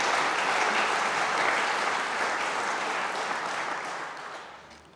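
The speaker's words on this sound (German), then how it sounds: "das ist jetzt einen Beifall wert." Sustained audience applause filling a hall at the Bavarian Economic Day conference, dense and steady throughout before tapering off at the very end, with no voices over it.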